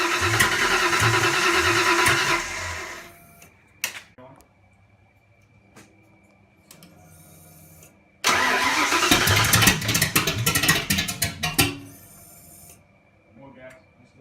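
A Fox Body Ford 302 with a turbo cranks over and catches with a little gas, making two loud bursts of rough engine noise separated by quiet clicks and rattles, close by.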